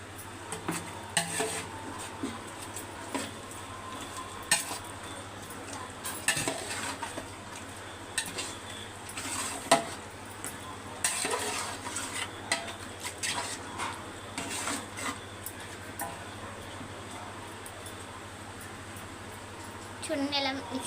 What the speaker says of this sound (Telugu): నెక్స్ట్ మిక్సింగ్ చేయాలి.